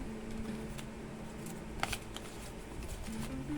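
Tarot cards are turned over and handled on a table, giving soft, scattered papery flicks and slides close by, with a faint steady hum underneath and no talking.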